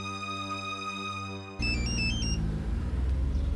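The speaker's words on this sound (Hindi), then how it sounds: "श्यामली, एक बार फिर से उसका नंबर ट्राई करो, शायद बात हो जाए" Phone ringing on an outgoing call, a steady electronic ringback tone that cuts off abruptly partway through, followed by a brighter melodic chime and background noise.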